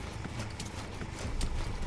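Horse hooves in the video game Metal Gear Solid V, a quick, even clip-clop of steps heard up close under a faint background wash.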